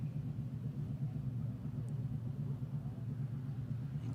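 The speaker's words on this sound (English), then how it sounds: "He's really hustling that race car." A Toyota GR Cup race car running on track at Sebring International Raceway gives a steady low engine rumble heard from a distance, constant with no clear revving and no voices.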